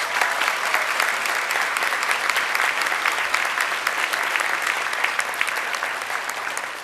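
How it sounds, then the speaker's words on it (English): An audience in a school board meeting gives sustained applause for a girls' sports team, a dense, steady clapping that holds for about seven seconds before tapering slightly. "if you want to give them a round of applause"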